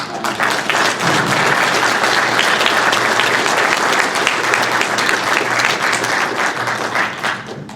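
Sustained applause from members at a 16mm film association annual general meeting, a full room of clapping held at an even, loud level for several seconds before easing slightly at the end.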